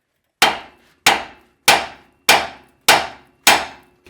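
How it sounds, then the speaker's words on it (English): Six sharp metallic hammer blows, evenly spaced about two-thirds of a second apart, as a small hammer strikes the steering spindle of a 2002 GMC Sierra pickup to shock the tie rod end loose; close and loud with no talk. "I just take my small hammer, small, and we're just going to hit the spindle where the tie rod end goes through it"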